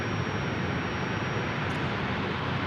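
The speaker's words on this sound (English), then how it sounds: "the Qantas A330 there in the background is going to take the takeoff" Qantas Airbus A330 taking off at Sydney airport, heard as a steady, dense jet roar that fills the whole moment without letting up, loud and continuous with no voices.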